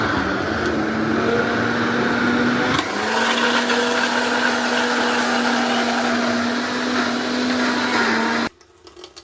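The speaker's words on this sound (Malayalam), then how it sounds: "ഇത് നമുക്കിനി കുറച്ച് മിക്സിയിലേക്ക് ഇട്ടിട്ട് അരച്ചെടുക്കാം" A kitchen mixer grinder blends chopped star fruit (star gooseberry) for juice, a loud steady motor whine that shifts pitch briefly partway through, then cuts off abruptly near the end with no voices.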